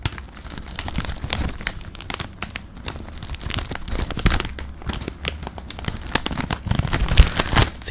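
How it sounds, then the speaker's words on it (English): A packet of cheese and onion crisps is handled up close, crinkling and rustling in a dense run of sharp crackles and brief tearing sounds, loud against a quiet room with no talk. "He's asked me to drink a Guinness and eat a packet of cheese and onion crisps."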